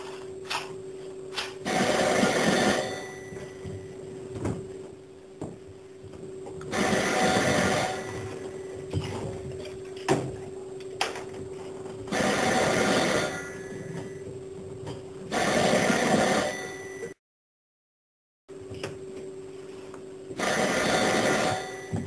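A telephone rings in regular bursts about every five seconds, each ring a loud, buzzy trill, separated by quieter gaps with a brief silence near the end.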